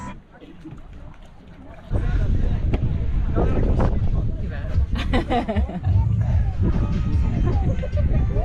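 A boat ride on water at Jericoacoara, Brazil, with engine and water rumble, wind noise and people chatting in the background.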